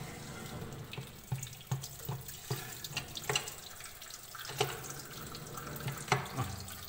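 Water rushes into a Jaguar concealed flush tank after its valve is opened, a steady running and splashing flow with irregular gurgles and light knocks, fairly faint and unbroken.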